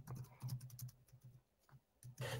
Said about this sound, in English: Whoever's typing really loud,